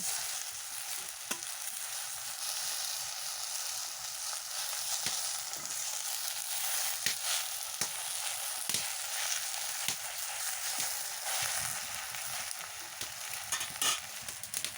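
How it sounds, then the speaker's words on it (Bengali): Taro leaves fry with hilsa fish in a pan, giving a constant close hiss and sizzle broken by scattered clicks and taps of a spatula, with no talk. "কীভাবে আমি কচু শাকটা বেজে নিচ্ছি"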